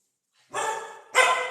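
A pet dog barks at home, two loud, close barks in quick succession after a moment of silence.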